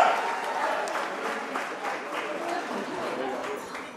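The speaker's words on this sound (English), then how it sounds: "please, everybody, give a round of applause to my beautiful bride" Wedding guests give a round of applause for the bride at a reception, a full, steady burst of many hands clapping close by with crowd murmur underneath, lasting the whole moment.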